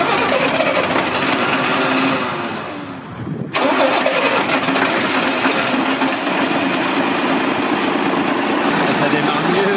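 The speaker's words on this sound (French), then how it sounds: "Là je vais le démarrer avec la cabine levée pour qu'il voit si tout marche bien." A truck engine, just repaired, cranks over with the cab raised, falls quiet for a moment, then catches and settles into a loud, steady idle, with a voice talking over it.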